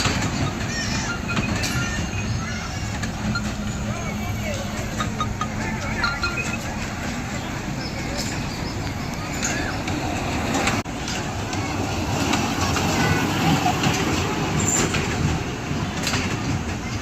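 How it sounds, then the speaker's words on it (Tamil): An amusement park ride train rolls along steadily, a continuous broadband rumble with faint rattling that holds at an even level throughout, while a person talks briefly in the background. "ட்ரெயின் போகுது."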